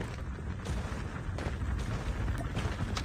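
Explosions and gunfire from a vehicle being blown up in Call of Duty Mobile, a dense, continuous barrage of booms and shots that stays loud throughout with no voices.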